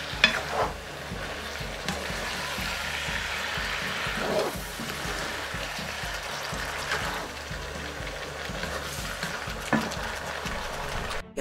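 Potato and carrot noodles are stirred in a hot pan, producing a continuous close frying sizzle with rhythmic scraping and occasional clanks of the utensil.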